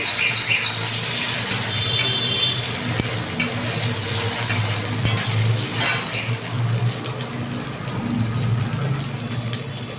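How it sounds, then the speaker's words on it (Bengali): Pieces of paneer frying in hot oil in a pan, producing a steady, even frying hiss with occasional soft pops throughout. "তেলটা গরম হয়ে গেছে। এবার আমি পনিরগুলোকে ছেড়ে দিলাম।"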